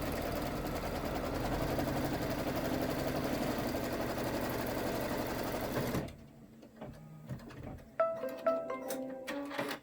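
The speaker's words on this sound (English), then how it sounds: "Do some really, really fun decorative stitching." A sewing machine runs decorative stitching on a Halloween party hat: a steady, loud mechanical whir for about six seconds, then it stops and lighter clicks and taps follow.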